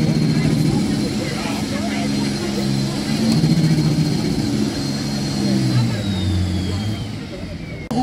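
A pulling tractor engine struggling to rev at a tractor pulling event in Sonsbeck, a loud continuous droning roar with a strained low tone that slowly sags in pitch, heard alone throughout.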